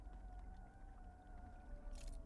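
A steady siren-like wail drones through a moment of Outer Wilds gameplay, two sustained tones holding over low rumble for about two seconds, with a brief hissy burst near the end.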